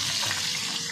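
Fish frying in a pan in a home kitchen, a steady close hiss and sizzle with a faint watery bubbling texture, brief and continuous.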